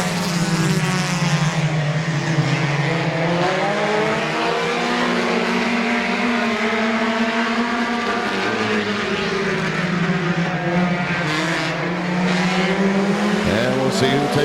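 Race cars roar off at the start on a dirt-to-asphalt oval speedway, a loud, dense layered engine drone of the pack accelerating together, swelling and shifting pitch with an announcer's voice faintly over it.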